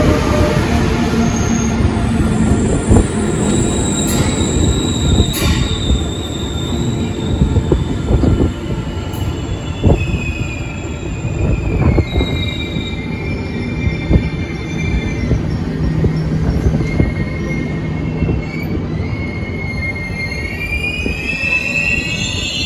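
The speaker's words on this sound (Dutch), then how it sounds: "Nou, de trein is inmiddels aangekomen" A train rolls into Rilland-Bath station in Zeeland, Netherlands, with a steady low rumble of wheels on rails, high metallic squeals from the brakes and wheels rising and falling throughout.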